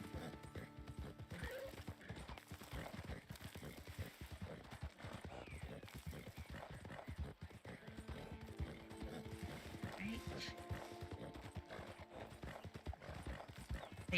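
Horse hooves clip-clopping steadily in Red Dead Online, a continuous close rhythm of hoof strikes with an occasional whinny, under low game ambience and faint voices.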